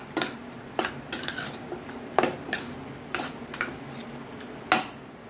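A spoon mixes mutton marinade in a bowl, giving faint scraping clinks and soft taps that come at irregular intervals against a quiet background.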